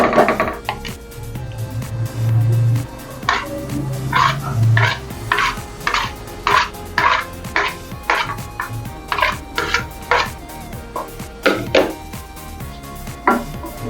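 Garlic cheese chicken with grated cheese scattered over it is stirred in a pan, giving a series of close, short scraping and clinking strokes with a faint sizzle beneath, partly against a low background hum.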